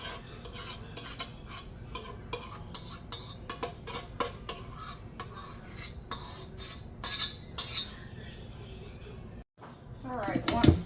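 A utensil scrapes thick Ritz chicken casserole mixture out of a pot into a baking dish, giving close, repeated metallic clinks and scrapes under intermittent talking.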